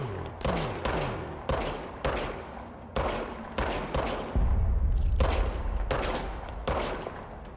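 The magic gun in the video game Control fires about a dozen loud, sharp shots. They come in an irregular rapid rhythm, each with a decaying tail, and no one talks over them.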